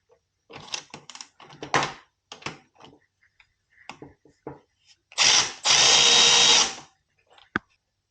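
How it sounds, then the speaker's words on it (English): A hand ratchet works 3/4 inch bolts loose on the fork risers of a 1975 Harley-Davidson Shovelhead, heard as bursts of rapid close clicking with pauses, ending in two longer loud rasping runs and a sharp final click. "I have my trusty ratchet here, and we'll go ahead and get this undone"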